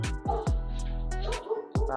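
Several dogs bark from near an open front door of a home, sharp yelps and woofs recurring in quick bursts with whimpering between them, fairly loud and close.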